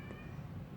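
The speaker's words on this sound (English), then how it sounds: "Can you hear my cat?" A single short meow from a cat, fairly faint and close, over a steady low background hum.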